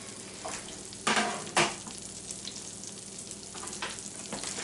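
A burger pressed onion side down into melted butter and oil in a hot pan, giving a steady, close sizzle throughout with two louder bursts of crackling early on and smaller spits later.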